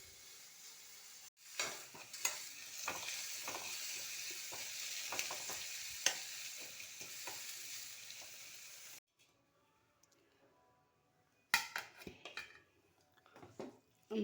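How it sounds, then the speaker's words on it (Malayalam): Two small, finely sliced onions fry in oil for a beef roast, with a busy sizzle, stirring and clinks of a utensil against the pan. A short quiet gap falls before the frying and scraping resume. "ഇതിനി എണ്ണയിലിട്ട് വറുത്തെടുക്കാം."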